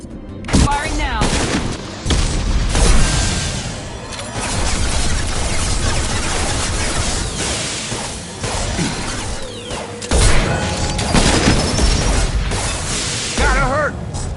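Loud gunfire rattles in Mass Effect Legendary Edition, with bursts and sustained volleys layered over explosions and mechanical combat noise, while voices shout over the fighting throughout.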